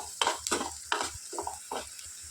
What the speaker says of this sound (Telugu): ఆనియన్స్ మంచి కలర్లో వచ్చేంత వరకు ఫ్రై చేసుకోవాలి